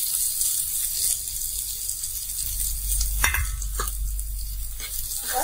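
Semolina stirred into frying vegetables in a pan for rava upma, a constant sizzle with scraping stir strokes and a few louder clicks, close by.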